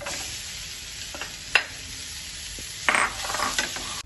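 Jackfruit stir-fried with cumin and garlic in a pan, giving a soft steady sizzle punctuated by a few scraping stirs and clinks of a spatula against the metal, with no voices.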